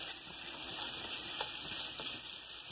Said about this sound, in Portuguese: vamos começar aqui o nosso arroz, fritando aqui uns 300 gramas de bacon